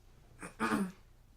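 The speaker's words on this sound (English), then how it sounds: "Clear my throat." A person clears their throat once, close and fairly quiet: a brief rasp followed by a stronger, rougher burst, with quiet around it.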